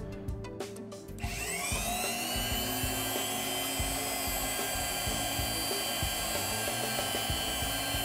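A high-pitched high-speed drill with a 1.1 mm bit whines steadily and continuously after a brief start, drilling into a pearl, with grinding and rattling underneath, close and fairly loud.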